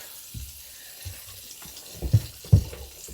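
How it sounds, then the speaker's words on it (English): Water poured from a container into a cooking pot inside a camper van, a soft low splashing that rises to a couple of louder gushes near the end, close by and without speech. "Let's try and do this without spilling it. Water in there."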